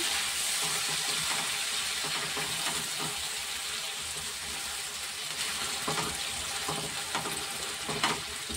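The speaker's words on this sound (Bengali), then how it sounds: "সামান্য একটু জল দিলাম যাতে আদাটা ঠিক করবে না, আর একটু জল দিয়ে দিলাম।" Water splashes into a hot pan holding ginger, a steady hissing, bubbling wash that stays loud and close throughout with faint crackles.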